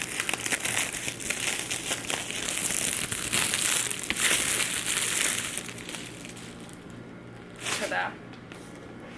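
Crinkling and rustling of new packaging as an engraved iPad Pro is unboxed, a close, continuous crackle of paper and plastic with a brief louder tear near the end.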